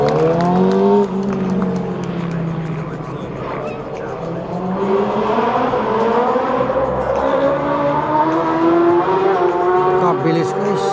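A big racing motorcycle at the Isle of Man TT, its engine note sweeping up and down as it roars past at around 180 mph, loud and near, with a voice talking over it.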